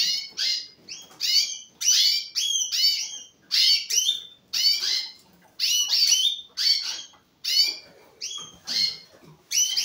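Several birds sing at once in a home aviary, bright overlapping chirps and trills coming in steady phrases with short gaps, close and clear, with no talk.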